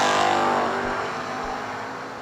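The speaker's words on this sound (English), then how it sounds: "Aaron Vale with a strong start and the strong finish for the win." Drag racing cars at World Wide Technology Raceway launch down the track, a loud sustained engine roar that slowly fades as they pull away, with no talk over it.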